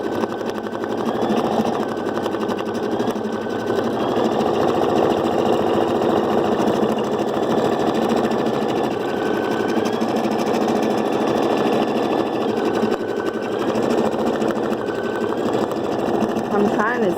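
An embroidery machine stitches after being rethreaded, a fast, steady mechanical whir and rapid needle rattle running continuously up close, with faint tonal shifts as the hoop moves, while a person talks over it.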